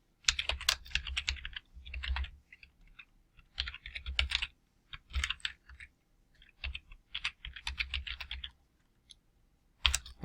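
Python code typed on a computer keyboard into an interpreter: bursts of rapid, close key clatter separated by short pauses, each burst carrying a low thump, with no voices.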